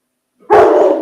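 A dog barks once, sharp and loud, close by after a short silence, inside a home.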